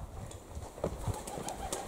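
A pigeon in an abandoned sanatorium coos softly and flaps its wings, low throaty calls mixed with a few brief fluttering bursts, fairly near in a hushed interior.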